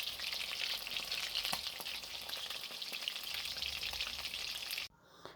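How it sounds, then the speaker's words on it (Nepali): Marinated meat frying in hot oil in a karahi, a steady dense sizzle that holds loud and close for about five seconds before cutting off. "तेल तातिसके पछाडि चाहिँ अगाडि मोलेर राखेको मासुलाई चाहिँ थोरै थोरै गर्दै मैले कराईमा"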